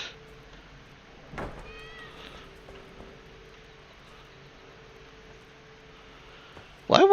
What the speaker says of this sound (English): Got a kitty cat stuck in the bookcase.